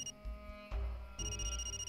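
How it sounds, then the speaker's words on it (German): A phone rings in the video game Far Cry 2 with a tonal electronic trill in two bursts split by a short gap, fairly quiet under a low game rumble. "Oh, warte, Telefon."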